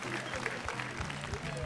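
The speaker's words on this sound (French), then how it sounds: "Merci beaucoup, on peut les applaudir." An audience at a large baptism celebration gathering applauds technicians and volunteers, steady dense clapping heard amid crowd noise with voices talking over it throughout.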